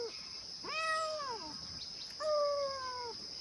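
A cat at a mountain campsite in Miaoli lets out two drawn-out meows close by, over steady high insect buzzing.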